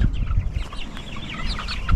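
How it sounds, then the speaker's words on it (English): Several Cornish chickens cluck and murmur close by in a chicken tractor on a hillside, soft overlapping clucks with a louder squawk near the end. "Acting like chickens."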